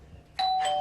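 A doorbell rings in a home with a two-tone chime, loud and close. It starts abruptly after a quiet moment and sustains its ringing tones to the end, with no voices.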